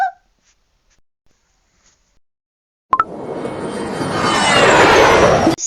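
An airplane taking off on a trip to Morocco, near-silence with a few faint ticks, then a sudden loud rush of engine roar that swells and holds steady, heard from inside the cabin.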